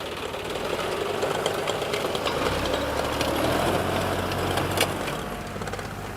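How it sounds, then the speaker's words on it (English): A motorized direct planter with a spiked wheel runs through a conservation-agriculture field, its small engine giving a steady, close, knocking drone that holds evenly throughout with no voices. "This is the motorized version. It is called a direct planter."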